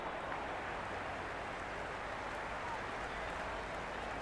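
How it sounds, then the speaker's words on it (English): A crowd in the cricket video game Cricket 26, during a Pakistan vs Afghanistan T20 match, keeps up a dense, steady roar of cheering and applause throughout. "It's evident and ever so audible that the crowd is at near bursting point at today's play."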